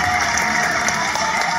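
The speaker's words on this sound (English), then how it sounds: "Everybody clap your hands to Clayton." Children and guests at a seven-year-old's birthday party clap together in a dense, steady wash of applause that fills the whole moment, loud and close.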